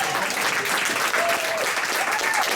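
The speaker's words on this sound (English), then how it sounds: "And y'all give Steve a round of applause" An audience at an award presentation applauds Steve, who is receiving a Shining Light Award, with continuous, full-room clapping that holds steady throughout, and faint voices and a whistle are mixed in.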